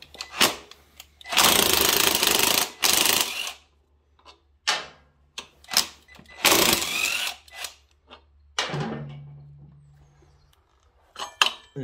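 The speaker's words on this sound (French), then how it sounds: "Donc déjà on va venir en premier dévisser les vis de l'étrier" Caliper bolts come off the rear brake of a Fazer 600 motorcycle. Loud, close bursts of power-tool whirring alternate with metallic clinks and rattles, with no talk.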